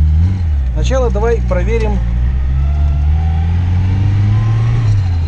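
Car fitted with a Solex carburetor accelerating on the primary barrel while driving, a steady low engine drone rising slightly throughout, with someone talking briefly over it near the start.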